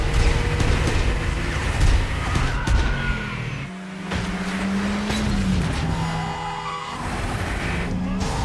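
Car chase with gang vehicles racing away, engines roaring loudly and tires squealing in long sliding whines, layered with dramatic score throughout.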